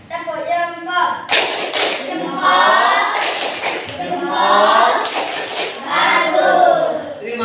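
Classroom students perform a thumb clap routine, with bursts of clapping and thumping hand taps in rhythmic groups, mixed with children's voices chanting and talking throughout.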